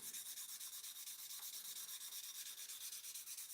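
A Grunewald tobacco pipe being sanded by hand, a steady, close rubbing hiss with a quick back-and-forth rhythm that continues without pause and with no voices.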